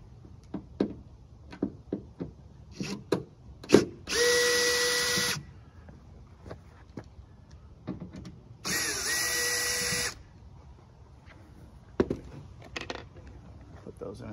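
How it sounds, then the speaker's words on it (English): Power screwdriver backing Phillips head screws out of the rear hatch of a 2012 Kia Sedona, two steady whirring bursts among scattered knocks and clicks, with someone talking in between. "two more screws. One right there, one right here, Phillips head screws. Those need to come out."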